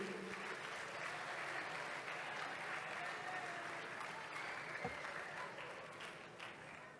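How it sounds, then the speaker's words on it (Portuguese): Audience applause for a professor at a Mackenzie Presbyterian University nanotechnology presentation, a steady sustained wash of many hands clapping, fairly faint and distant, tapering slightly toward the end. "Bora aplaudir o professor Guilhermino."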